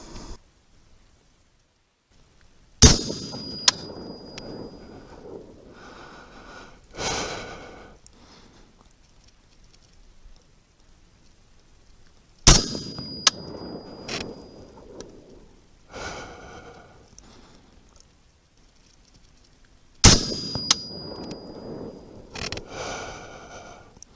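Three loud 5.56mm M855 rifle shots fired through a 20-inch barrel, spaced roughly ten seconds apart, each a sharp crack followed by a rolling outdoor echo, with quiet handling noise between.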